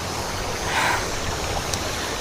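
Stream water rushing near a spot where laundry is being washed, a constant loud wash of flowing water filling the short moment with no voices.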